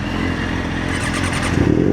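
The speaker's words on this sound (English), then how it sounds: "Full SC Project exhaust on this beautiful 2026" A 2026 Kawasaki ZX6R 636 sport bike fitted with a full SC Project exhaust runs close by with a steady, loud engine drone that swells briefly near the end.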